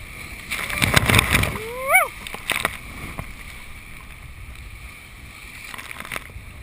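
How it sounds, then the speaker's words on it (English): A raft crashing through a big wave in Colorado River rapids in Cataract Canyon, with bursts of splashing water and a loud whoop over churning flow, then quieter rushing water. "That's the biggest wave I've ever hit"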